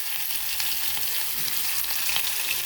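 Onion fries in hot oil with a close, steady crackling sizzle that holds even throughout, with no voices.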